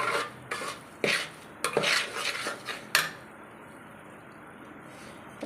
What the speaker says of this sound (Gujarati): ગોળ એડ કરીને એમાં મિક્સ કરી લેવાનો